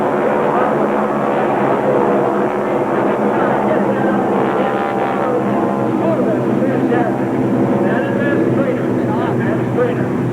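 An airplane passes overhead at the Oshkosh air show, its engine a loud, steady roar running throughout with no break.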